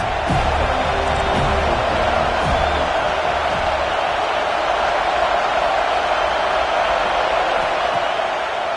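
A stadium crowd at a college football game roars as a loud, continuous wash of cheering that fills the whole stretch.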